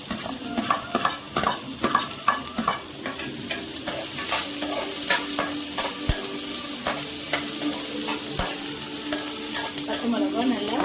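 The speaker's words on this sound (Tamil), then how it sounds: "மிளகாய் நல்லா வதக்கணும்" Onion and green chillies sautéing in a pan for simple noodles, a steady close sizzle with repeated scraping stir strokes and occasional utensil knocks, no talking.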